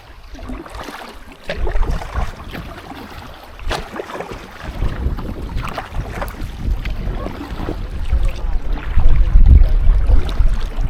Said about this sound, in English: we're just paddling against the wind for a bit, so we've got the wind on our back coming back